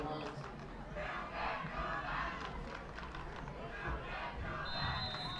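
Crowd noise from the Eyota student section at a high school football game against Dover, a steady roar of many voices shouting and cheering in unison, loud and sustained throughout.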